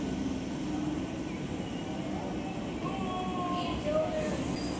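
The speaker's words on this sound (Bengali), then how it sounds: "তো আজকে একদম স্টেশনে এসে ভিডিওটা শুরু করেছি।" A train runs at a railway station on the Bandel–Howrah local line, a steady broad rumble of carriages with brief squealing tones near the end and faint voices in the background.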